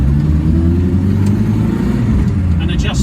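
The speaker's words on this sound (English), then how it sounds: "the idle's actually on its lowest setting, and it still makes an absolute racket at idle" Reliant Robin engine idling at a high, loud, rough idle after mixture and manifold adjustments, a steady close droning rumble with no gaps for the whole stretch and a faint voice underneath.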